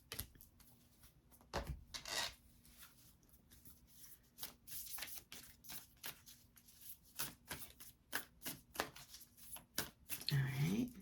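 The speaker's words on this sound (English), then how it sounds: "I'm going to pull all the cards before I interpret." Tarot cards are shuffled and pulled from the deck in repeated soft riffles, slides and flicks, close and irregular, continuing throughout a quiet space.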